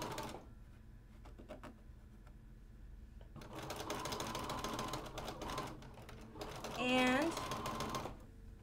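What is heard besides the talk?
sewing machine stitching a quilt seam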